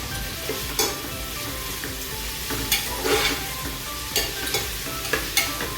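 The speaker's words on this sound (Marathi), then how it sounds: "दहा पंधरा लसणाच्या पाकळ्या एक इंच आळा आणि दोन मिरच्या मिक्सरमध्ये क्रश करून घेतले ते आता आपण टाकूया" Crushed garlic, ginger and green chilli go into a hot pan for spicy prawn rice, giving a loud, steady sizzle broken by sharp scraping clicks of a spoon stirring.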